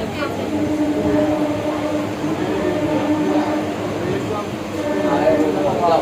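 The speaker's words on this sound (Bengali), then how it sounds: "আমাদের ট্রেন কিন্তু ছেড়ে দিয়েছে" A moving train departing on a trip to Darjeeling rumbles steadily with rattling carriage noise and faint squeals, while people talk over the constant rolling din.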